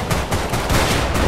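Gunfire in a video game comes as a quick, loud burst of a few rapid shots, close and harsh, with no talking.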